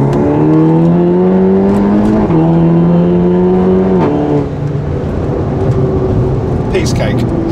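A tuned Mk8 VW Golf GTI Clubsport pulls hard from about 40 mph with traction control fully off, its engine note rising steadily through gears with brief dips at each shift, loud and close inside the cabin.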